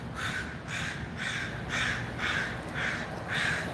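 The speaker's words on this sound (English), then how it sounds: "It's the Community Corrections Crow." A crow caws outdoors near a courthouse: about seven harsh, evenly spaced caws in a steady rhythm over constant background noise, fairly close and loud, with no talking.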